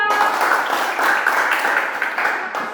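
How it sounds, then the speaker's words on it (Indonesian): A school class claps for a group of students after a cooking activity, a brief burst of many hands applauding close by in a classroom, steady and fairly loud throughout. "Mari kita tepuk tangan untuk kelompok 2."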